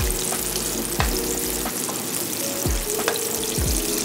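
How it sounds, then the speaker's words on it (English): Salmon patties fry in hot grease, a steady close-up sizzle and crackle with a few soft thumps and scrapes of a utensil stirring in the pan, with no talking. "So I got the grease going. Salmon patties are still frying"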